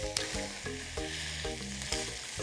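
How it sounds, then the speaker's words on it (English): Rissoles searing on a hot barbecue plate give a steady, close sizzle with a few sharp spatula scrapes and taps cutting through. "So try to keep the meat cooking in the hottest part of the plate so they don't stew"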